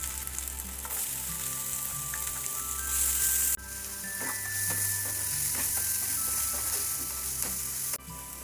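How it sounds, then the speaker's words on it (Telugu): Finely chopped onions frying in a pan for chole masala, a loud continuous sizzle with clicking spatula scrapes and a low hum from the stove, no one speaking. "వీటిలో మనం సన్నగా తరిగి పెట్టుకున్నాం కదా ఉల్లిపాయల్ని, అవి కూడా వేసి చక్కగా వేపుకుందాం."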